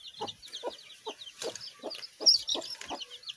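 A hen clucks low and repeatedly while several chicks cheep in high, rapid peeps, all close by and overlapping in a busy, irregular rhythm.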